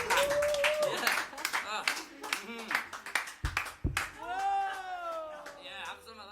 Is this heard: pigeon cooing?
no